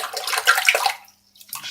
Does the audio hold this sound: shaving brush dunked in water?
yes